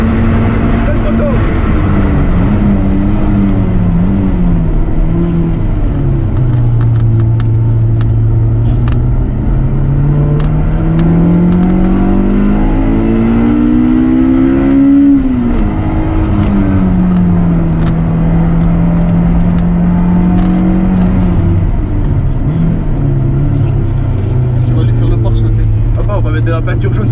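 A Honda S2000 accelerates hard on track during a time attack, its engine note rising and falling through the gears in loud, sustained sweeps, heard from inside the car.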